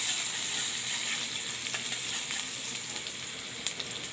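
Two crushed garlic cloves sizzling in hot oil for a lentil dish with hog plums: a steady, fine crackle close by with a few small pops, no talk.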